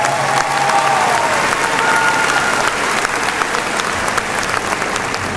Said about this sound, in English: We also need to give a great round of applause to a man that's really done a phenomenal job for Prattville High School